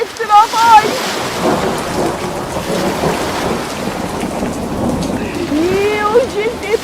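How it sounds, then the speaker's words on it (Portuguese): A storm sound effect of steady rain and rumbling thunder fills the background at a fairly loud, continuous level, with a few brief children's voices or whistles over it. "E raios e trovões."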